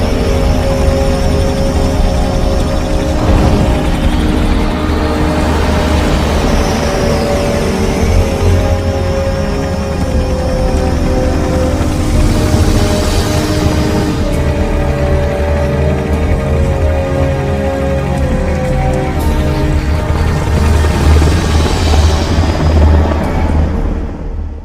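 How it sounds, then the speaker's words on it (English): Russian Hind gunship helicopter in the Metal Gear Solid game: a loud, steady rotor and engine roar holds for the whole stretch, with a low rumble under it and game music layered on top. "what's a Russian gunship doing here?"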